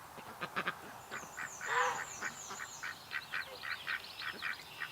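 Small wild ducks quack in a backyard among domestic ducks. Repeated short quacks come in a loose rhythm at moderate distance, with a louder honk-like call partway through.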